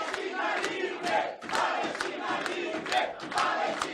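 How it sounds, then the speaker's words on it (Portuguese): Crowd applause and cheering at a political debate event, with dense, sustained clapping mixed with shouting voices, loud and continuous throughout with slight swells. "Pedir uma salva de palmas ao povo palestino."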